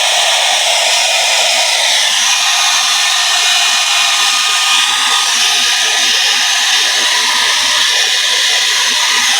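A loud blower drying the fur of three-month-old puppies roars steadily and continuously at close range with a breathy hiss, never pausing, with no voices.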